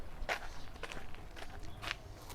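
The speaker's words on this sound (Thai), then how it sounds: "ตอนนี้เฮากำลังชิย่างไปโลตัสเด้อพี่น้อง" Footsteps of someone walking to a Lotus store in Thailand, a few soft, scuffing steps heard close, with quiet background ambience and no talk.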